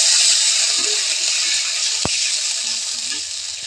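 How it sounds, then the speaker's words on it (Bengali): Water poured onto spice paste frying in a pan, giving a loud continuous sizzling hiss that slowly eases, broken once by a sharp click near the middle. "এখন আমি দিয়ে দেবো জল।"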